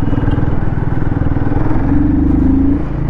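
Royal Enfield Guerrilla 450 motorcycle engine revving hard toward high RPM, a loud, close, steady throbbing roar that climbs in pitch near the end.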